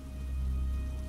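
Steady pouring rain as an animated horror sound effect, a dense even hiss with a low rumbling bed that holds at constant loudness throughout, with no voices.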